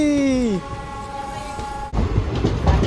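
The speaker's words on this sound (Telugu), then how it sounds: "మళ్ళీ మన ట్రైన్ అయితే బొబ్బిలి నుంచి స్టార్ట్ అయిపోయింది" A Guntur–Rayagada express pulls out of Bobbili junction: a loud horn blast sags in pitch and cuts off, a lingering tonal hum follows, then rolling wheel clatter and carriage rattle take over nearby.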